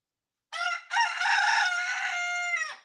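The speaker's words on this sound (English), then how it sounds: "And every single time he crows, he strengthens whatever his mechanism is for crowing" A rooster crows once, close and loud. A short opening note is followed by a long, strained, sustained call, with silence before it.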